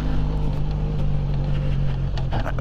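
A Benelli Leoncino Trail 500 motorcycle engine drones steadily in first gear, with a low continuous hum and slight throttle variation toward the end, heard close and loud.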